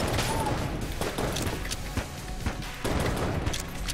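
A weak fire-damage gun shooting in Enter the Gungeon: dense, steady bursts of video-game gunfire with repeated sharp shots and crashes, loud and continuous, with no talk.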